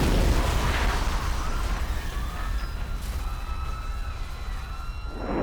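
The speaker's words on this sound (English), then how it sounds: "I presume you heard that loud explosion right next to you?" Loud, sustained roaring rumble of a Holden Commodore car exploding at close range on a city street, a dense blast that fills the whole clip, with faint siren-like tones and crackling debris above it.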